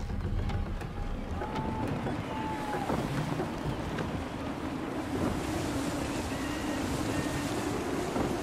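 Steady wind rushing over a sailing ship at sea in Assassin's Creed III, with waves washing and a continuous broad roar that holds loud throughout, a few faint creaks and tones drifting above it.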